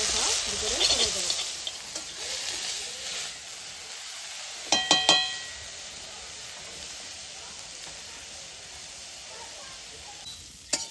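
Bottle gourd leaf paste fries in a pan while being stirred, giving a loud sizzle at first that thins to a quieter crackle, broken by a few sharp scrapes and knocks of the spoon.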